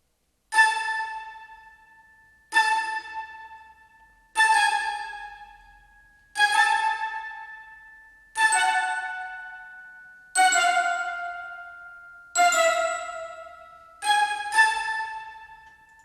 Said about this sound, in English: And the sparkling woods from Abbey Road One,